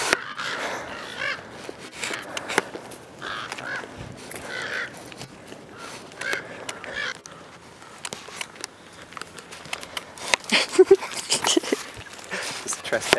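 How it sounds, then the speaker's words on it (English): Crows caw repeatedly outdoors on a hillside, harsh calls scattered at intervals amid footsteps and frequent talking. "What is up with these birds?"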